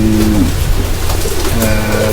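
Racing pigeons cooing close by, low throaty coos repeating in a steady rhythm, loud and clear with no voices.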